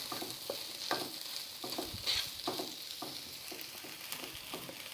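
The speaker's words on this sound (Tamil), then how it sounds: "உப்பு சேர்த்து நல்லா விரவி விட்டுறலாம்." A spoon stirs sautéed capsicum with salt in a pan for a Tamil capsicum varuval, soft scraping strokes recurring under a faint, steady sizzle, quiet and close with no voices.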